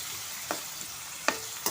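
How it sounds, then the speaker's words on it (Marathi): Onion, garlic and chili sautéing in hot oil, a steady near sizzle with a few sharp stirring scrapes, no voices. "एक अर्धा मिनिट परतून घेते."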